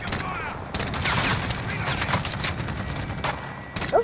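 Rapid video-game gunfire from a chopper gunner killstreak fires in dense, sustained bursts, loud and close, with brief gaps between volleys and a voice heard faintly underneath.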